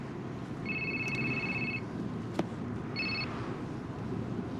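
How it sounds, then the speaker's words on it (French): A telephone rings in a French comedy film, giving two bursts of electronic trilling separated by a pause, moderately loud over a steady background hum, with no speech. "Le téléphone est sous votre coude."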